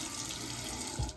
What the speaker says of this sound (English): every morning Murray waits right here for me to start, or Al if he's home, to start brushing our teeth because he loves the water